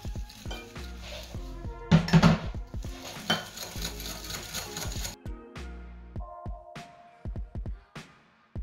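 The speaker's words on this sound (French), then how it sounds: "Et on mélange." Egg yolks and powdered sugar mixed by hand with a utensil in a bowl, clattering and scraping in quick irregular strokes, loud and close, with pauses between bursts.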